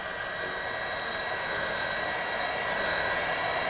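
Heat gun blowing hot air onto silicone, a steady, fairly quiet whooshing roar held constant from start to finish, with faint clicks now and then and no talking.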